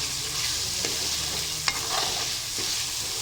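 Marinated chicken frying in a pan while being stirred, a steady hiss of sizzling oil broken by a few soft scrapes of the spoon, close and with no talking.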